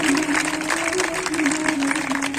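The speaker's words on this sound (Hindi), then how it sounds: "जोरदार ताली होनी चाहिए माता जी के लिए" Dense, steady applause from a crowd honouring a woman at the closing of a Shrimad Bhagavat Katha at a temple, loud and sustained throughout, with a faint tonal voice or music line running underneath.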